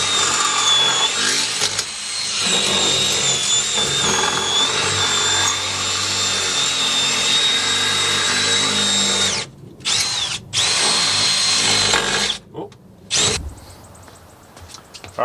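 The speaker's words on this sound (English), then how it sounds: "we're just gonna cut out the race with the Sawzall and then slide the urethane one in" A Sawzall reciprocating saw cutting out the factory differential bushing race on a Nissan 350z, a loud continuous buzzing drone that stops abruptly, restarts in short bursts, then cuts out.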